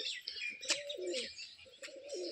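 Pigeons, including a black one, coo softly in low, throaty phrases while sharper bird chirps and tweets cut in, the sounds fairly faint and close together.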